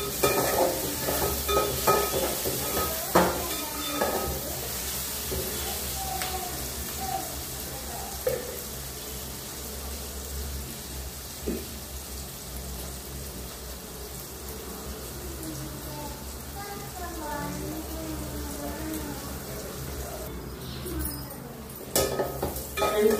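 Taro root curry frying and browning in a pan, with a gentle, steady sizzle broken by intermittent scraping stirs, close-up and quiet, with a short burst of running water near the end.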